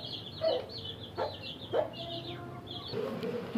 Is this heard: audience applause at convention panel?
no